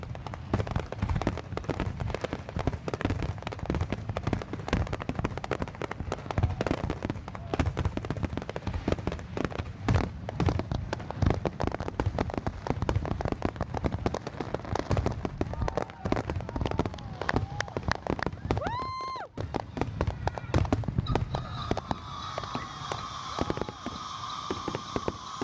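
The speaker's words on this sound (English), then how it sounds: "we're pretty excited for the big fireworks show, which we're gonna watch over here by the lake" An Independence Day fireworks show by a lake crackles and pops continuously in dense rapid bursts, loud and close, with a whistling rocket near the end and voices mixing into the din.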